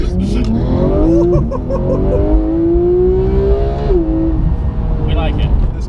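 A Porsche GT3 engine revs and climbs in pitch while driving, a steady close drone under people chatting in the cabin.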